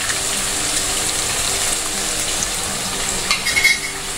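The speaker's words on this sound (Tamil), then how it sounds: "நல்லா வதக்கிக்கோங்க." Chopped small shallots and garlic cloves sizzle steadily in hot oil in a pan, a close, continuous frying hiss with a brief scrape of a spoon near the end.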